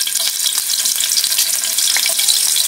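Ginger frying in hot oil in a wok, a steady, loud, dense sizzle with crackling spatters running throughout, no voices.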